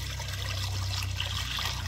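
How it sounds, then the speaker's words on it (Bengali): Water poured into a wok gives a faint, steady trickling splash over a low, constant hum, continuous and unbroken with no speech. "কড়াই দিয়ে দিব পরিমাণ মতন পানি।"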